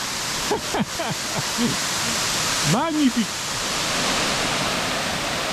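Large mountain waterfall pouring into a plunge pool, a steady full-band roar of falling water throughout, with a voice speaking briefly over it near the start and again a few seconds in.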